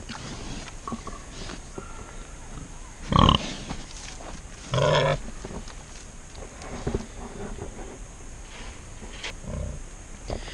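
A pig grunting and snorting in a newly built pen, with a couple of louder close grunts standing out over rustling and low background noise.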